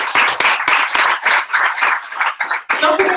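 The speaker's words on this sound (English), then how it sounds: "One round of applause for Tanya again, please." A small audience at a conference talk applauds the speaker with close, loud, irregular bursts of hand clapping that rise and dip for about three seconds.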